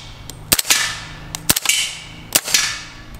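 Three sharp, loud suppressed gunshots from a 300 Blackout rifle fitted with a Leonidas Gen2 integral silencer, each a crisp crack with a short tail, spaced about a second apart outdoors.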